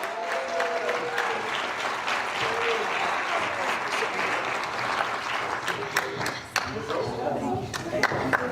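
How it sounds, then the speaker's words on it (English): A press conference crowd applauds steadily and loudly, dense clapping sustained throughout, with some cheering mixed in. "I clap a little louder than that."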